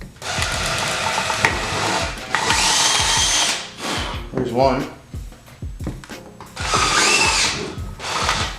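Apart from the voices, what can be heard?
power drill drilling hole in driveshaft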